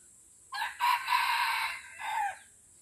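A red junglefowl rooster crows once at moderate distance, a clear multi-part call lasting about two seconds against a quiet outdoor background.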